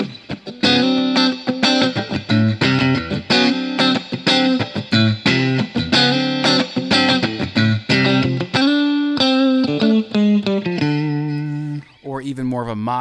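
Clean-toned electric guitar in a funk style chops out rhythmic, staccato chord stabs and short muted hits in a tight repeating groove, played up close and solo.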